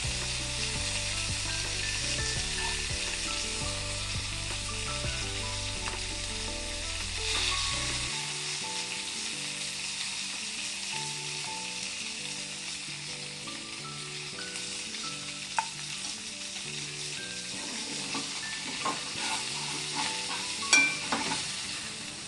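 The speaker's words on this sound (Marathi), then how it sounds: "आपली नारबा फ्राय तयार झाली" Long pieces of narba fish, a pomfret-like fish, sizzle steadily in hot oil with a constant crackling hiss and occasional pops. Soft background music plays during the first few seconds and then stops.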